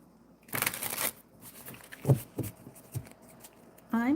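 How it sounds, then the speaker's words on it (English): Tarot cards are shuffled by hand in short riffling bursts, a loud crisp flutter followed by several lighter taps and slides, with a voice speaking briefly in between. "continue shuffling."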